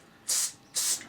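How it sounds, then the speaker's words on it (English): Coolant sprayed onto a steel sheet during jigsaw cutting: two short, close aerosol hisses, each lasting about a quarter second, with a brief gap between them. "so we're just going to spray a bit of coolant on there."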